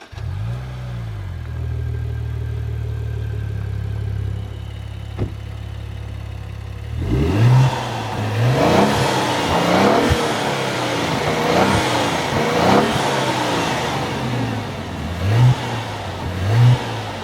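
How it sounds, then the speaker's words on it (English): A 2014 Maserati Ghibli SQ4 engine cranks and settles into a low idle, then is revved repeatedly in rising and falling bursts, loud and close. "Now that you've heard how that engine sounds"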